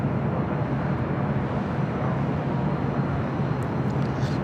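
A Qatar Airways A350-1000 airliner touching down on the south side at LAX, heard as a steady, broad jet roar with wind rumble, distant and continuous, with no voices.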